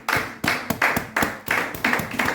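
A church congregation clapping together in a steady rhythm, about nine sharp, even claps in quick succession, close and fairly loud, with no talking.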